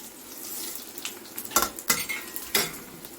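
Coriander seeds crackle in a pan over a faint frying hiss, punctuated by several sharp scraping and clinking spoon strokes against the metal, fairly quiet and close.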